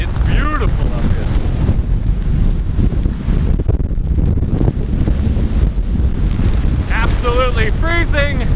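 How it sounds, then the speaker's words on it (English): Strong wind buffeting a microphone on a White Mountains summit, a loud continuous roar with gusty surges, while people talk briefly at the start and near the end. "It is unbelievably windy up here."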